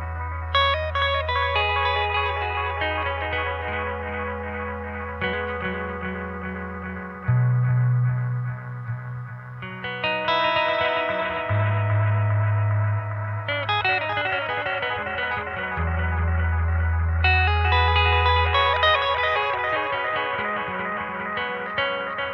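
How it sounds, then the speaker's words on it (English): Electric guitar played through a multi-echo delay pedal, a continuous run of picked notes and chords whose repeats overlap and trail on for over twenty seconds, loud and close with no talking. "let's hear the multi-echo again really quick."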